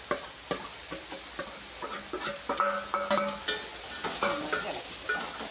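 Chopped onions and green chillies sizzle in hot oil in a pan for a chicken curry, with a spatula scraping and stirring in repeated close strokes over a constant frying hiss.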